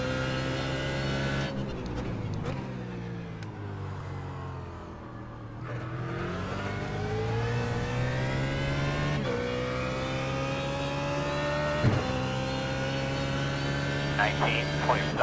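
A BMW GT3 race car engine lapping Twin Ring Motegi in the iRacing simulator, revving up through gears with falling and rising pitch on shifts and braking, sustained and fairly loud, with someone talking over it.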